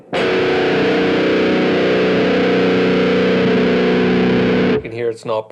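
Electric guitar in standard E tuning played through a pitch-shift pedal set five semitones down, a loud sustained distorted chord ringing steadily for several seconds before cutting off abruptly, with brief noises after.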